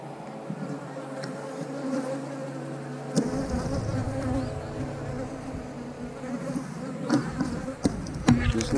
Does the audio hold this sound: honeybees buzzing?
yes